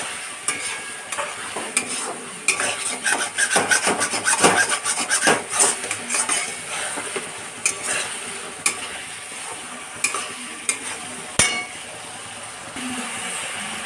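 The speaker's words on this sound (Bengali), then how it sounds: "এই মুহূর্তে রসুন আর পেঁয়াজ" Garlic and onion fry in a pan that has already been salted, the base for a chicken kosha. A steady close sizzle runs throughout, broken by irregular scraping and knocking strokes from stirring.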